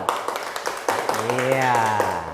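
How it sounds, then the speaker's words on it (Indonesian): Students in a classroom clap together for a group, with brisk rhythmic claps at a moderate distance, then a voice rises over them as the clapping continues. "Ya, tepuk tangan dulu, ayo."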